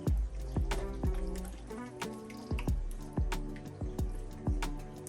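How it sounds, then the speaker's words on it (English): A pot of vegetable and beef soup with large cut veggies being stirred, giving wet squelching, dripping sloshes that repeat in a loose rhythm up close, with no one talking. "And again, we are gonna give it a stir."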